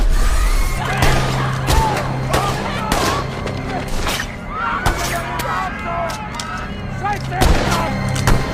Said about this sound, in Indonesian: Dalam baku tembak tersebut, Hedrick terluka di bagian dadanya